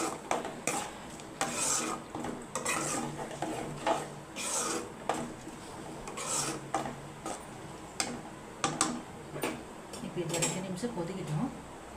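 A spoon stirs and scrapes sundal in a metal pan in a repeated, uneven rhythm, with light clinks against the pan close by. A voice talks faintly underneath.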